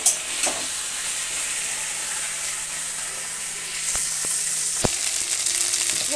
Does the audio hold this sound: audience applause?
no